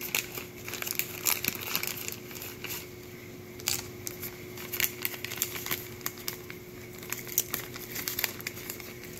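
Packaging of a Diamond Art Club diamond painting kit is opened, giving close, continuous crinkling and crackling of plastic and paper with irregular sharp ticks over a faint hum.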